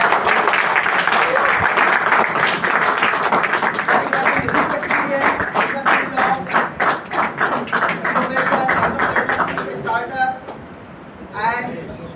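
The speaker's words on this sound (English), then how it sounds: "Please give a big round of applause." Workshop audience applauding a business speaker, a country head, being welcomed: loud, even clapping that gradually thins into scattered individual claps before fading near the end.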